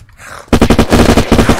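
Bulldog assault rifle in the video game Unturned firing a rapid, loud, close burst of about a dozen evenly spaced shots, alone.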